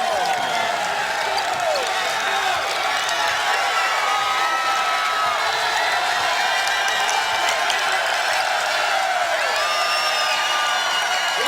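A pro-Northwestern crowd cheers at a 2016 Northwestern versus Texas college basketball game, a steady roar of fans with whoops and sneaker squeaks on the court, sustained throughout.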